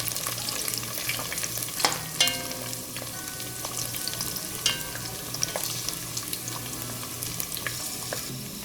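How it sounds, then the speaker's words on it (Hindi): Spoon stirring zarda sweet rice ingredients, dry fruits and cardamom, in hot desi ghee, with a steady close sizzle broken by scraping and clinking strokes of the spoon against the pot. "साथ साथ चम्मच से मिलाएंगे इनको।"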